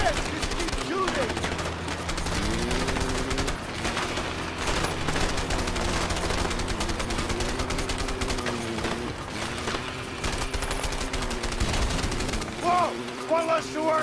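Sustained gunfire in a shootout in the co-op video game A Way Out, dense shots rattling steadily under game music and voices, with players talking over it throughout.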